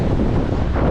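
Strong wind buffets the microphone on a bridge in Riga by the Baltic coast, a dense, continuous low roar filling the whole brief moment, with no voices.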